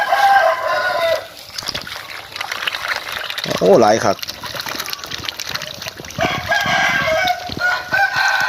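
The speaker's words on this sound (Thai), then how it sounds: "มาเบิงไก่ๆครับพี่น้อง" Chickens on a farm beside concrete catfish ponds: a rooster gives one clear crow midway, with scattered clucks and splashing water, while someone talks over much of it.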